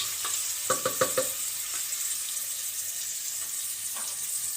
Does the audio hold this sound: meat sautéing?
yes